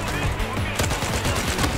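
Rapid, dense bursts of M60-ULT light machine gun fire with explosive rounds rattle in the Battlefield 4 video game, loud and continuous with impact blasts layered throughout.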